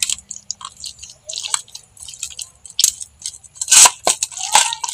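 Boiled chilies, shrimp and onion are mashed and mixed by hand, producing close, irregular wet squishes and soft slaps in scattered bursts with quiet gaps between them.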